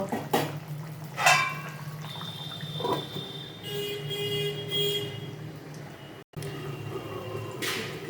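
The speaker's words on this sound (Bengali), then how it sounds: "আপাতত এটা ঢাকনা দিয়ে ঢেকে রাখলাম কিছুক্ষণ ফোটার জন্য" A fish curry with drumsticks and potatoes simmers under a lid, a quiet, continuous bubbling with a few soft clinks and a brief pause.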